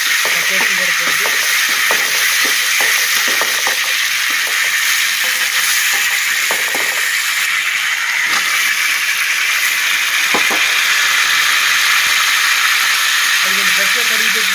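Ginger garlic paste fries in hot oil in a pan for a prawn fry, giving a steady, loud sizzling hiss throughout with occasional stirring clinks, while a person talks at intervals over it.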